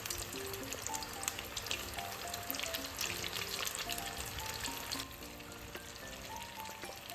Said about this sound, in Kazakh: Осылай қатты қызып тұрған майымызда қуырып аламыз.